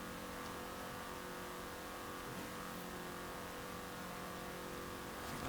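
Racing cars in Forza Horizon 4 give a steady, loud engine drone at around 100 mph, the tone holding and rising slightly without talk.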